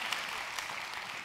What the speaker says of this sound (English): yes, clap, everybody clap